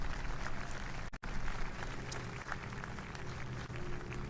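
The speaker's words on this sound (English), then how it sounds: "Please do give a round of applause to Matt Hall" Outdoor crowd applause at a Veterans Day parade, a faint, diffuse patter of many hands that is steady and distant, broken by a brief dropout.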